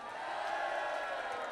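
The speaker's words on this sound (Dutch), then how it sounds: "Heerlijk om dat applaus weer zo te horen." A studio audience at the Dutch music show Hart voor Muziek keeps up dense, steady applause with scattered cheers and whoops, a loud continuous wash with no pauses.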